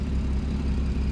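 Porsche GT4 idling steadily, a low continuous engine rumble that holds even throughout with no talk.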